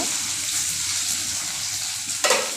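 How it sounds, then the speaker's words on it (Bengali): Paneer frying in refined oil in a home kitchen pan, a steady hiss of sizzling that runs the whole time, with a brief sharper burst near the end. "প্রথমে পনিরটা ভেজে নেব"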